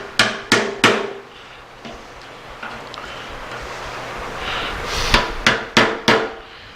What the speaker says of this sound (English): now we'll finish tapping our little retaining ring on down here